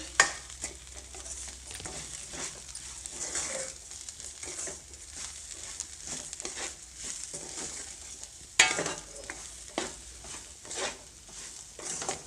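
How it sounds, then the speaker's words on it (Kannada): Semolina (rava) frying in tempering oil for bansi rava upma, stirred with a spoon, giving a soft continuous sizzle and rhythmic scraping, close and moderately quiet, with one sharper knock partway through and no talk. "ಅದರಲ್ಲೇ ಸಹ ರವೆನ ಹಾಕಿಬಿಟ್ಟು ಫ್ರೈ ಮಾಡ್ಕೋಬೋದು"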